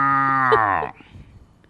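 A person's voice imitates a cow and calf mooing on a Vasantham TV studio show: one long, drawn-out moo that slides in pitch and then cuts off abruptly, followed by faint background noise.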